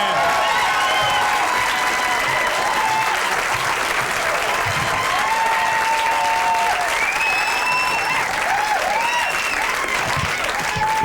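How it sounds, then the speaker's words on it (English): A comedy club audience breaks into sustained loud applause for a comedian coming on stage, with dense clapping, whoops and cheers holding steady for about eleven seconds. "Put your hands together for Ted Alexandro."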